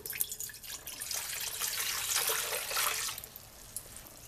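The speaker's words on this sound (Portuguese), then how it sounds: "Nós vamos colocar água até a metade dela aqui, que vai dar uns 400 ml de água." About 400 ml of water poured from a tap into the lower half of a couscous steamer pot, a steady splashing rush for roughly three seconds that then tapers off to a few drips.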